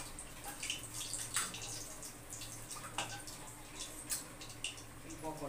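Fried pakoras are rinsed in water, with a steady wash of running and splashing water and intermittent drips and clinks, under faint background talk.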